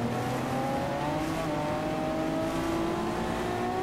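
A Honda NSX JGTC race car in the Gran Turismo video game accelerates hard, its engine note climbing steadily through the revs, loud and continuous with no talk over it.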